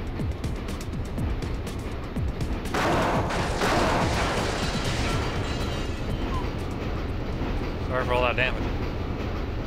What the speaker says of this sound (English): And the train just kept chugging.